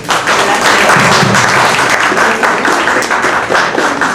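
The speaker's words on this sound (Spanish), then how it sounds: "recibámosla con un fuerte aplauso" An audience gives a loud, sustained round of applause, dense clapping filling the room evenly from start to finish with no talk over it.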